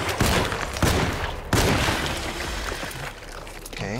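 Gunshots ring out in the horror game Alone in the Dark, three loud, sharp blasts in quick succession followed by a decaying rumble and echo.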